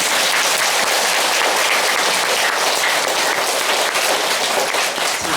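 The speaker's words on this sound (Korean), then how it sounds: "박수 안 쳐요?" Audience applause fills a Buddhist dharma talk at a temple assembly: dense, steady clapping from a crowd, loud and continuous for the whole stretch with no voices over it.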